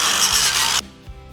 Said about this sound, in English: So I'm gonna go ahead and just get all this paint off.